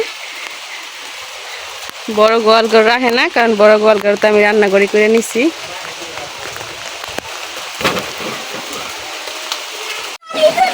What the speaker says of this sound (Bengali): কইতে কইতে বৃষ্টিও নেমে গেছে খুব জোরে।